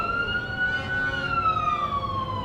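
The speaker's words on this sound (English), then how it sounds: "lot of sirens here." An emergency vehicle siren wails in a long, slowly falling tone during a Christmas parade, fairly clear over a low background rumble.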